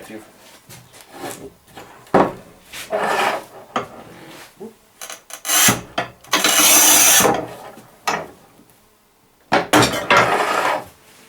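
A Haisser Industry 730 mm manual tile cutter scores ceramic tile: short dry scraping rasps, then one longer, louder gritty score up close, with a voice heard briefly between strokes.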